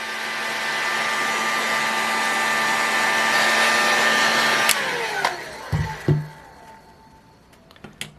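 A heat gun blows a steady, loud airy roar while heating an engine housing to free its rear bearing, running continuously for several seconds before cutting off, followed by a few scattered clicks and handling knocks.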